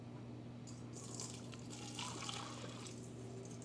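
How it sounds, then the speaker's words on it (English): Browned butter poured from a pan into a bowl while baking chocolate chip cookies, a soft, close liquid trickle and splash running steadily for a few seconds over a low steady hum. "Our brown butter is all ready, and I'm going to pour it into this bowl."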